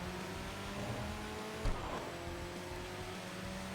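Engine of a V8-powered car in the Tokyo Xtreme Racer 2025 video game drones steadily with a sustained hum and a brief sharp bump midway, heard alone without talk.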